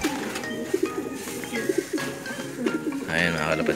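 A blue bar pigeon cooing in a loft, repeated soft rolling coos close by, with someone talking over them.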